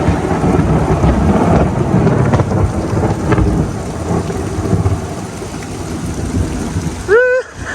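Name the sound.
thunderstorm with heavy rain and loud thunder cracks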